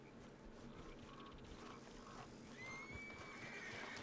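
Horse in the Red Dead Redemption 2 video game, faint hoof clatter and a high whinny rising near the end, quiet throughout.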